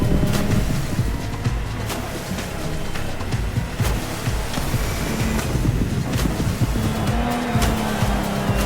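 Engines drone and rev continuously during a water-racing event in The Crew Motorfest, Ocean 'N Sky, with boat-like motor roar, a few sharp transient hits and a rising whine near the end.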